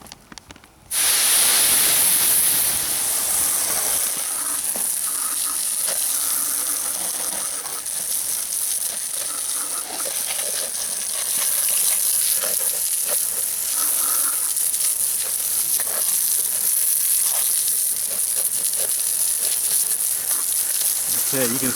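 Steady hissing spray of water rinsing car wheels and tires, a loud continuous rush starting abruptly after a moment of quiet and holding with slight variations as the nozzle moves.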